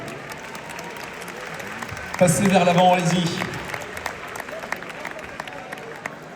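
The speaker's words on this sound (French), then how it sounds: "Ouais, on peut les applaudir" A crowd at the Grand Rex in Paris applauds and cheers in a loud burst partway through that fades after about a second. Someone talks over the room before and after, and low background music plays.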